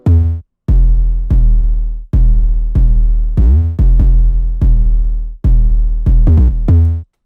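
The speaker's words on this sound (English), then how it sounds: "I have the At Me 808, which actually just follows the main melody." A deep, booming 808 bass follows the main melody in a simple line of sustained notes, some short and quick near the end, loud and alone.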